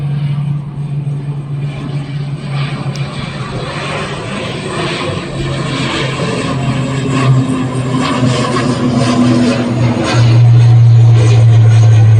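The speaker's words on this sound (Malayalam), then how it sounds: "ആ ചെറിയ ഫ്ലൈറ്റാണ് ഇൻഡിഗോടെ" A small IndiGo propeller airplane drones steadily at close range, its low engine hum swelling louder toward the end.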